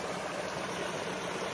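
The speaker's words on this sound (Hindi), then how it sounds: "वाह यहाँ से क्या पानी आ रहा है, देखो" A jungle waterfall stream rushes in a dense, constant roar, close and steady, with no pauses and no voices.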